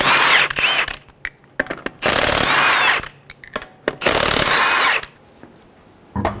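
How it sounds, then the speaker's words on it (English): Power tool with a 19mm socket loosening the five lug nuts on a 2003-2008 Honda Pilot wheel, heard as repeated loud, buzzy bursts a second or so long with short taps and pauses between them. "Using a 19mm socket, remove the 5 lug nuts."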